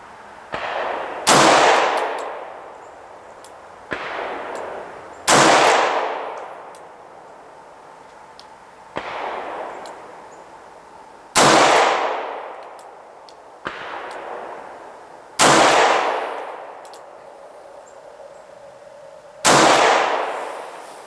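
Six loud, sharp gunshots from a Ruger LCR revolver chambered in 9mm Luger, fired at an outdoor range. The shots come singly at irregular intervals a few seconds apart, each a sharp crack followed by a long ringing decay, with no talking.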